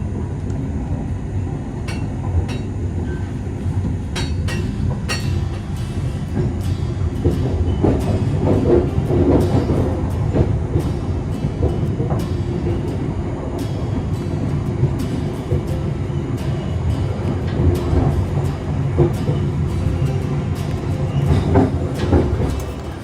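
The Malabar passenger train rumbles along the rails with a steady low roar and repeated clickety-clack beats from the wheels, heard loud and close from on board for over twenty seconds.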